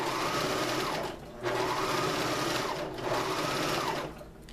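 Sewing machine running steadily as it sews a rolled hem over fishing line in a skirt, a close continuous whir that dips briefly twice and trails off at the end.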